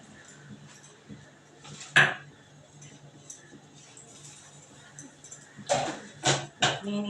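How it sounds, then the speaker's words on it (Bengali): A small cup being washed by hand in a kitchen, with a few sharp clinks and knocks of crockery against a faint running background and occasional soft speech. "দেখো কাপটাকে আমি আগে ভালো করে ধুয়ে ক্লিন করে নিই।"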